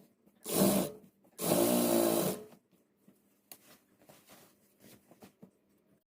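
A sewing machine stitches a straight seam along a salwar hem in two loud runs of steady whirring, then gives way to faint, scattered mechanical clicks and handling noise.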